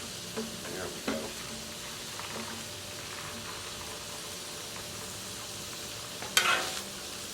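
Mild Italian sausage with minced onions, mushrooms and peppers frying on a Blackstone griddle, a faint steady sizzle with a few light spatula scrapes and one louder clatter near the end.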